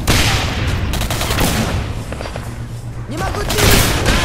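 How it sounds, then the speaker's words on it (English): Rocket launcher fire and explosions in the video game Singularity, a dense, loud barrage of blasts and gunfire that rumbles continuously and swells again near the end. "Rocket launcher, yeah."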